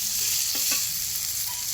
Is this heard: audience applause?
no